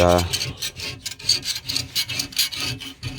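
Old, poorly prepared paint that was lifting is scraped off a surface in rapid, rough rasping strokes, close and steady throughout, with a brief tonal sound at the very start.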